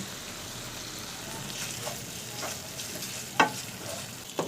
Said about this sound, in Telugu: ఈ పేస్ట్ వేసినాక ఆయిల్ పైకి తేలేదాకా ఉడికించుకోవాలి.